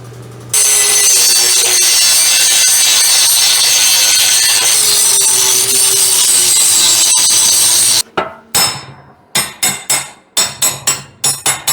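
A handheld power grinder trims metal in a car's engine bay, a steady loud whine running for about eight seconds, then a series of short, sharp bursts as it is repeatedly pulsed on and off.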